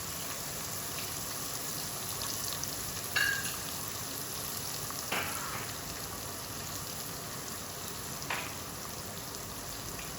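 Onion slices tipped into eggs frying in a pan for an egg bhuna, giving a steady close crackling sizzle throughout with a few sharper pops and spits, no talking.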